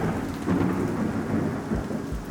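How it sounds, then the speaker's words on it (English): A thunderstorm near an airport, with steady heavy rain and low rolling rumbles of thunder that swell and fade, loud and continuous with no voices. "it appears we have a second part of this storm moving through."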